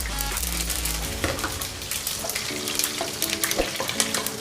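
Whole spices for biryani, bay leaf, cinnamon, cloves, peppercorns and fennel, frying in hot oil, a continuous close crackling sizzle with occasional light clinks throughout.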